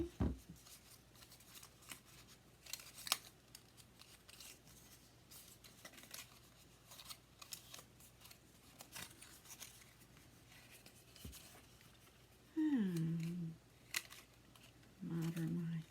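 Scissors trimming craft material for a handmade Christmas house advent calendar, heard as faint, scattered snips and light handling clicks in a quiet room, with a few brief louder tonal bursts.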